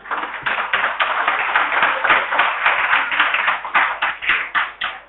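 An audience in a lecture hall claps steadily, a dense run of close hand claps that holds throughout, with no talking over it.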